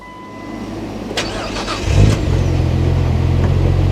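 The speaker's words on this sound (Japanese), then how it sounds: "エンジンかけた方がいいか。" A Nissan Skyline GT-R R34 with a Nismo S1 engine, F-Sport spec and about 97,000 km, cranks briefly and fires up, then settles into a loud, steady, rumbling idle close by.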